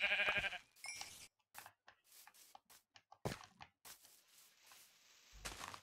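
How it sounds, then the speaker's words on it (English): Sheep bleating in the Minecraft survival video game, several short separate bleats spaced across the clip, moderately loud and alone without talk. "How about some sheep?"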